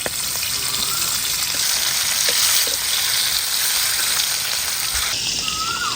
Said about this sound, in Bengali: এখানে মাছ ভেজে নিব